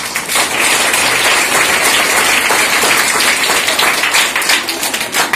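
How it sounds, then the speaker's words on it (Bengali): Students at a school inauguration for a new lab and RO water plant applaud the guests, a loud, dense burst of many hands clapping continuously throughout. "তোমরা সবাই মিলে হাততালি দিয়ে ওনাদের সম্বর্ধিত করো"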